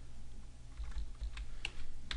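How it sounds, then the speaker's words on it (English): Keys tap on a computer keyboard in a short, uneven run of faint clicks over a steady low hum, a couple of strokes landing slightly sharper near the end. "Type your company name here."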